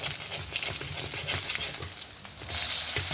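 Onion rotti roasting on a pan in a butter and oil mix, a steady crackling sizzle that swells louder near the end, with faint clinks and no talk.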